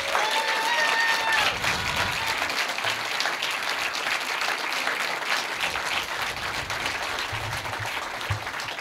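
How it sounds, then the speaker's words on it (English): A crowd gives a sustained round of applause at a storytelling event, thick continuous clapping with a few voices murmuring faintly beneath it. "So please, just one more round of applause."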